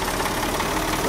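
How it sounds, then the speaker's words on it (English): A tractor engine idles in Farming Simulator 22, a low steady rumble with a regular pulsing beat that holds at moderate level throughout, with no talk. "feeling everything running on the tractor"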